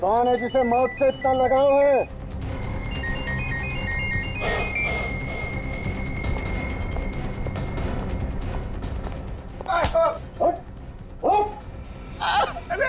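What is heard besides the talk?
phone ringtone ringing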